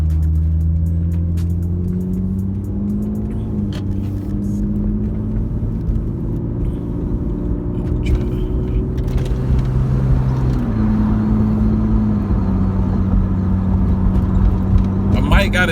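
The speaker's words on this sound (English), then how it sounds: "I know it's probably loud outside the car because you can hear it in the car" Lexus IS300 with an upgraded exhaust, heard from inside the cabin: a loud, steady engine drone whose pitch rises and falls as the revs change, with a clear drop in tone about two-thirds of the way through.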